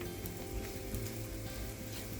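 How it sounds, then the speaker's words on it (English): An onion sautés in a pan with a steady, close sizzle of frying that holds without a break, no voices heard. "Sauté the onion."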